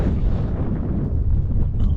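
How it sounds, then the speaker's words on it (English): Strong gusting wind roars and buffets continuously across the exposed summit of Grasmoor, a steady low rumble with no voices. "The summit of Grasmoor, the wind picked up big time and the temperature took a massive dive."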